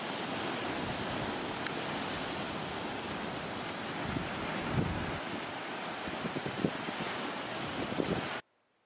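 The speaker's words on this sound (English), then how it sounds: "large waves rolling in and battering the rocks far beneath it" Large ocean waves roll in and batter the rocks far below Long Island cliffs, a loud continuous surf roar mixed with gusty wind buffeting the microphone, cutting off abruptly at the end.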